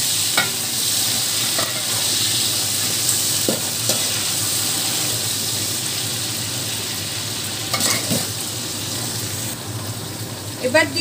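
Cabbage being stirred and fried in a pan for a Bengali dal dish, a steady sizzle running throughout with occasional scraping stir strokes, close and moderately loud.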